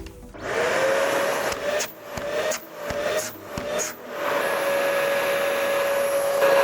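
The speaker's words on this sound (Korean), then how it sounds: "산업용 청소기를 가지고 왔고요. 한번 꽂아 보도록 할게요." An industrial vacuum cleaner powered by a Bluetti AC200MAX portable power station whines loudly and steadily, its motor tone repeatedly dipping in short gaps as the suction is interrupted before settling into a constant drone.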